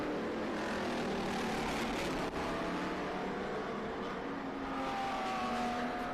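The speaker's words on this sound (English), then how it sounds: "And that little red Corvette." A small red Corvette races around the Circuit of The Americas circuit with other cars. Engine noise from the field stays steady and fairly distant, with no talk over it.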